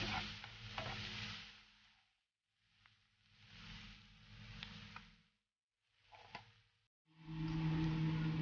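Chicken curry with finely chopped chillies fries in a pan, bursts of sizzling and stirring scrapes broken by brief pauses, loud and close, ending in a strong steady sizzle.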